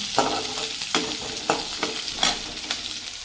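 Onion, cumin, pepper and curry leaves sauté in a pan for a Tamil brinjal kuzhambu, giving a steady close sizzle broken by several rhythmic scraping stirs of a spoon.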